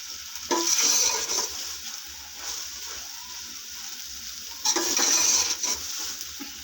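Macaroni roasting with spices in a pan, a low sizzle with two louder bursts of stirring and scraping against the pan, close by and without speech.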